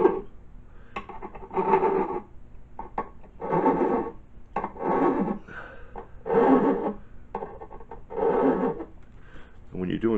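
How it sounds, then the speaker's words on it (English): Repeated rasping strokes of a file dressing burrs off guitar fret ends, close and steady at an even rhythm, with each stroke a short scraping burst. "I just want to get whatever burrs that file left behind is all I'm doing on this one"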